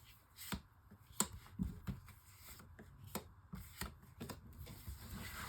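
Tarot cards are shuffled quietly for a five-card draw, giving soft scattered riffles and light taps close by, with no talk.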